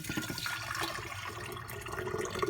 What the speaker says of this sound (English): So I'm going to go ahead and pour my hot water in